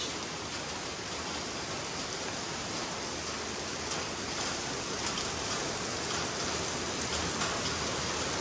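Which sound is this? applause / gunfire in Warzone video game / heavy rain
heavy rain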